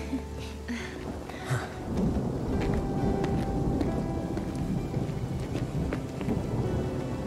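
Steady heavy rain pours down in Final Fantasy 7 Remake, a dense continuous hiss with low rumbling thunder underneath and scattered patters of drops across the whole stretch.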